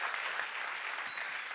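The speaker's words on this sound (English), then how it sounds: "Big applause for Guillermo." A crowd at a science slam in Berlin applauds steadily, a dense wash of clapping hands that stays even and fairly loud throughout with no voices standing out.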